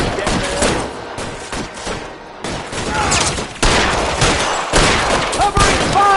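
Gunfire in L.A. Noire: loud volleys of pistol and rifle shots crack in irregular bursts across a firefight, with brief pauses between exchanges and a voice shouting amid the shooting.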